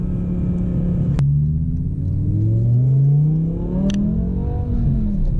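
A BMW M6 with a V10 engine and manual gearbox revving in second gear, a loud close rumbling drone whose pitch rises and falls repeatedly as the throttle opens and closes, with no talking.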